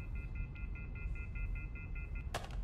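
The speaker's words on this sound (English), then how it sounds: "Does this phone work?" Repeated telephone dialing tones on a phone in the horror puzzle game In Sound Of Mind, about a dozen short evenly spaced beeps over a low rumble, ending in a brief burst of noise.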